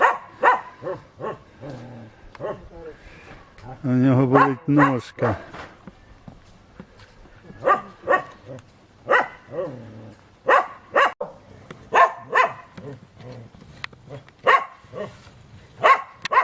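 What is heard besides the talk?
dog barking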